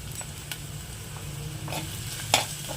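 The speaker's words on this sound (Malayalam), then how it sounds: "ഇനി നമുക്ക് ഇതിലേക്ക് ചെറിയുള്ളി അരിഞ്ഞത് നമുക്ക് ഇതിലേക്ക് ഇട്ട് കൊടുക്കാം." Chopped shallots fry in hot coconut oil with a gentle steady sizzle, broken by a few scrapes of stirring and one sharper clink, no voices.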